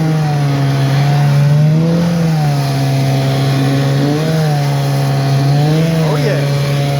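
A 9.5 outboard motor drives a dinghy at speed, its loud steady drone rising and falling in pitch as the boat moves over water, with wind noise.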